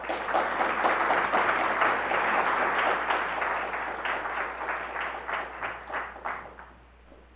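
An audience claps after a speech at an institute's 25th anniversary opening remarks, with dense, loud applause that holds steady and then thins into scattered, fading claps near the end.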